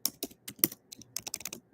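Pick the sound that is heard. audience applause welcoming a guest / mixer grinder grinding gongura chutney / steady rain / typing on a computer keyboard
typing on a computer keyboard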